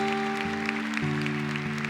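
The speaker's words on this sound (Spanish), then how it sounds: "Fuerte ese aplauso al Rey." Brief burst of congregation applause for Jesus at a Spanish-language church service, a steady clapping wash over sustained music tones from instruments in the hall.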